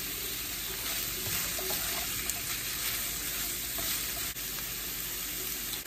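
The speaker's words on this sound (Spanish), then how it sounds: "Ya se está cocinando el camarón." Shrimp cooking in a pan over medium-high heat, seasoned with salt and ground pepper. A steady, close sizzle of frying continues throughout with faint stirring scrapes.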